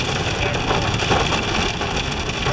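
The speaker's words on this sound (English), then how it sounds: "this is some crazy rain" Heavy rain pours in a dense, loud, steady hiss of drops hammering down, continuous with no pauses.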